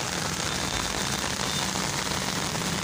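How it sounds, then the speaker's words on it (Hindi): Heavy monsoon rain pours down steadily at a town crossroads in Taxila, Pakistan, a dense continuous hiss of drops hammering a surface, loud and close with no pauses. "कितनी तेज़ बारिश है।"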